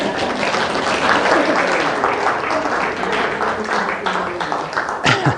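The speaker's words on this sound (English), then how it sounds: "Yeah, I should have deserved an applause for that." Audience at an astronomy talk breaking into applause, a dense wash of clapping from many hands that swells and then thins out, with a few scattered claps and a voice near the end.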